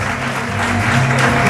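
Audience applause at a business plan competition awards event in Benin, steady clapping filling the whole short stretch at moderate loudness, with a faint hum underneath.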